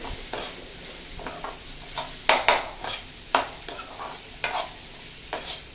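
Raw mango pieces are sautéed and stirred in a pan, with a soft continuous sizzle broken by irregular scraping strokes of a spoon against the metal, close and fairly loud.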